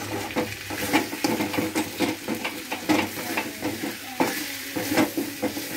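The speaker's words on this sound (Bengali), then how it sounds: "এবার আলুটা দিয়ে একটু নাড়াচাড়া করে নেব" Cut potatoes stirred and fried in a wok give a steady sizzle broken by repeated scraping stirs of the spatula at an even rhythm, close by and with no talking.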